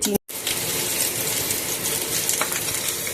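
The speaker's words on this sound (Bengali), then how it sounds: "গোটা গরম মশলা ফোড়ন দিয়ে আলুটা ভাজা শুরু করে দিয়েছি।" Potatoes frying in hot oil with whole garam masala for chicken biryani, a steady close sizzle and crackle filling the clip with a brief dropout near the start.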